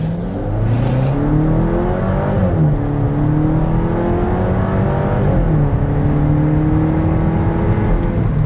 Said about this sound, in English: let's see how quickly we can get our new 2026 V60 Cross Country here up to speed